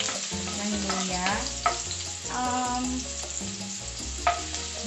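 Sliced ginger sautés in hot oil with a constant close sizzle, punctuated by a few sharp scraping stirs and a clank of the utensil against the pan, alone without talk.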